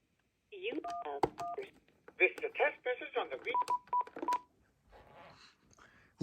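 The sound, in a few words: telephone DTMF dialing tones accessing voicemail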